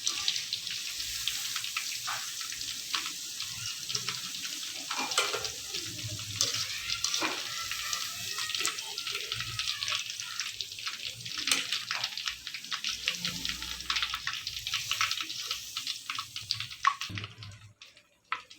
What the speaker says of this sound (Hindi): अपने बाकी के चिकन को भी हम इसमें फ्राई करने के लिए डालेंगे।